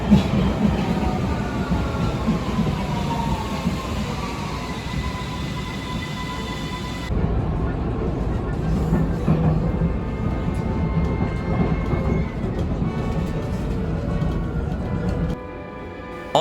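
A Vienna U-Bahn metro train runs along the line, a steady rumbling drone of wheels and motors with whining tones, continuous and fairly close throughout, shifting in character partway through.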